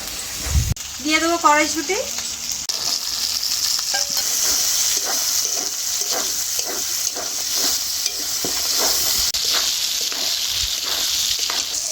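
Tomatoes frying with ginger and cumin in a kadai, crackling in a bright, steady sizzle broken by rhythmic stirring scrapes, while a voice speaks briefly near the start.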